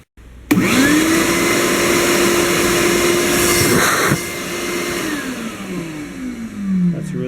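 A Shop-Vac wet/dry vacuum fitted with a replacement motor spins up and runs at a steady, loud, even whine, then drops to a lower drone near the end.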